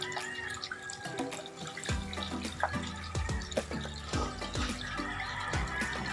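Water trickles and splashes steadily from a small waterfall set into a Texas ebony bonsai display, with a continuous running flow broken by irregular drips and light splashes, heard close and alone.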